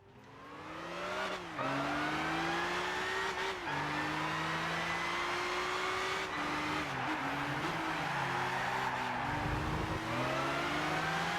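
Race cars in Gran Turismo 6 circle Silverstone Racetrack, with loud engines whining up and down through gear changes, overlapping motors and occasional tire squeal, sustained and close throughout.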